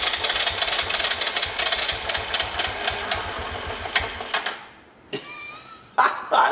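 Old Honda three-wheeler engine on choke chugs and pops unevenly up close, then cuts out briefly before sputtering back to life in short bursts.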